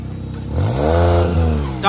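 A Maruti car climbs a steep off-road hill, its engine revving up with a rising, strained drone that swells and holds, close by, while voices carry over it.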